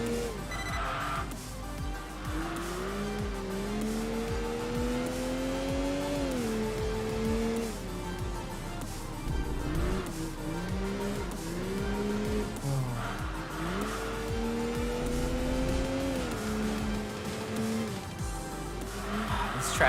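A car in the racing game Enthusia Professional Racing brakes hard and turns into a left-hand corner, its engine revving up and down while tires squeal in long wavering tones, loud and continuous throughout.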